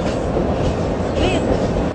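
A train running along a Brazilian freight railway, heard from inside a carriage: a steady, loud rumble of wheels and rolling stock that persists throughout, with a brief high squeal near the middle.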